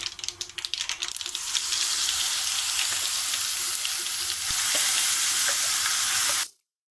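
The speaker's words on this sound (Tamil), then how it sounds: "இதை மீடியம் ஃப்ளேமில் வச்சு ஒரு பத்து நிமிஷம் இதை நல்லா கிளறி விடணும்" Garlic chutney with curry leaves and turmeric fries in a pan on a medium flame while being stirred, giving a loud, steady, close sizzle for about six seconds before it cuts off abruptly.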